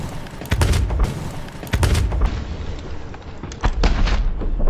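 Several loud, booming gunshots from a blunderbuss in the pirate game Sea of Thieves, firing in separate blasts with brief gaps between them.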